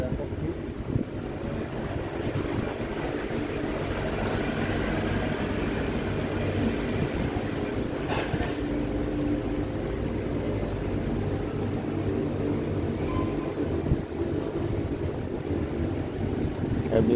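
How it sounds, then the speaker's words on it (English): Ambience at the Nha Trang train station in Vietnam: a steady, dense wash of rumbling noise with wind-like hiss and scattered distant clatter, continuous throughout with no clear foreground event. "We're having coffee at the Nha Trang train station."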